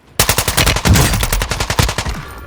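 A TR-76 rifle in Call of Duty Warzone 2.0 fires rapid, loud, closely spaced shots in two quick bursts with a brief break between them, close and alone.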